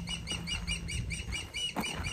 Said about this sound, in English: Sounds like a seagull, doesn't he?